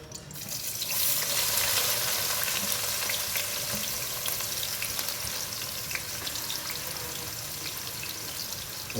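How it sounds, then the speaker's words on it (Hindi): Onions sizzle steadily in hot oil in a pan for a chicken chana egg dish, making a dense, continuous hiss with faint stirring. "जी तो दोस्तों, आप देख सकते हैं ऑयल अच्छी तरीके से गर्म हो चुका है। इसमें हम प्याज ऐड करेंगे।"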